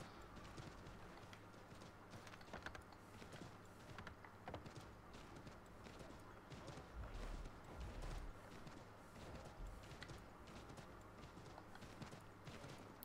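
Horse hooves pound in a steady galloping rhythm in Assassin's Creed III, quiet but continuous clip-clop beats over game ambience with no talking.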